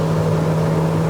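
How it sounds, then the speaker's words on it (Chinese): A 2019 Proton Exora Premium MPV engine climbs under hard acceleration on a mountain road, a loud, steady droning hum with a sustained tonal whine and no talk. "你看我的转速提高得很快"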